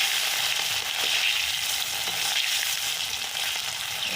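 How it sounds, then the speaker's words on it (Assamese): Fish frying in hot oil seasoned with turmeric and salt, a loud, dense, unbroken sizzle heard close up with no talking. "মাছখিনি ফ্ৰাই কৰি লওঁ।"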